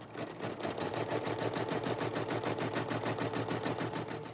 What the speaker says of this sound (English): stitch out step two of the stitch map